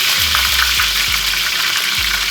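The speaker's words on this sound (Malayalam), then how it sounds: "ആ എണ്ണയിലോട്ട് ഒരു 2-3 തണ്ട് കറിവേപ്പില ഇട്ട് വെച്ച്" Two to three sprigs of curry leaves dropped into about two tablespoons of hot oil, sizzling and spitting loudly and steadily up close, with a few light clinks of a utensil against the pan.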